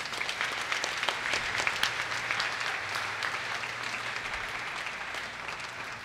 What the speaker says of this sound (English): As a sign of our approval for the ordination of these men, let us give them a round of applause